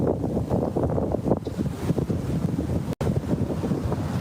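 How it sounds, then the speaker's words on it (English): Strong wind gusts buffet the microphone outside a courthouse, a loud, continuous low rumble and roar with uneven surges and no talking. "It's really windy here. You can see it's pretty windy."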